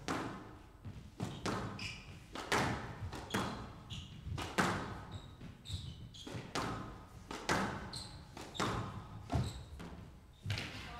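Squash ball struck back and forth in a professional world championship rally, a steady run of sharp, hollow thwacks and wall thuds with squeaking shoes, ending in a volley boast, heard close and clear.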